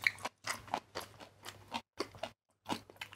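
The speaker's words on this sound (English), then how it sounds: "Crunchy pickled vegetables." Crunchy Japanese pickled vegetables (tsukemono) from a 7-Eleven in Japan being chewed close up, a run of about seven loud, crisp crunching bites with short quiet gaps between them and no talking.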